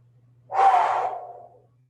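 A person exhales in one heavy, breathy gasp during a resistance band workout, a single loud rush of breath lasting about a second before trailing off over a steady low hum.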